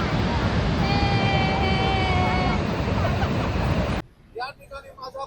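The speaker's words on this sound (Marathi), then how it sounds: "सध्या 18 दरवाज्यातून पाण्याचा विसर्ग होत आहे." Water thunders out through the gates of Jayakwadi dam at Paithan, a loud, roaring rush with some tonal whine, then cuts away to quieter surroundings where people talk.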